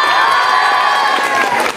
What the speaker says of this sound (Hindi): बोला ताली बजाओ,